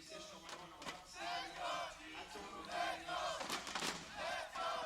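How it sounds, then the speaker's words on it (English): Esports arena crowd at a CS:GO ESL Pro League semi-final, G2 versus NRG on Overpass, chanting loudly and steadily in rhythmic waves that swell and build throughout, with cheering and shouts layered over the chant. "the chants are building up"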